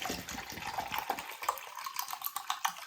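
Tap water pouring into a container for mixing plaster of Paris, a steady trickling splash with light clinks of a utensil, close and fairly quiet with no talking.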